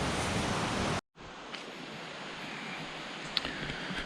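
Steady broadband rush of a creek flowing near a waterfall on the Virginia Creeper Trail, close and continuous, with a brief dropout near the start.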